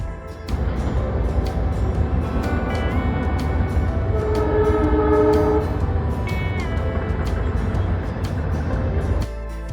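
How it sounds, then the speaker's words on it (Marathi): A train rolls past along a hillside in the Khandala ghat with a continuous rumbling roar, a tonal horn-like sound rising briefly in the middle, then fading near the end. "दुसऱ्या बाजूला तुम्हाला इथे डोंगराच्या कोपऱ्यातून जाणारी ट्रेन सुद्धा पाहायला मिळेल"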